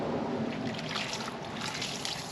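Water running and trickling as turtle tank filter sponges are rinsed, a continuous close splashing flow throughout.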